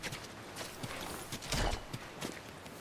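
Horse hooves clip-clop in a steady, uneven walking rhythm, fairly close, with a heavier thud near the middle.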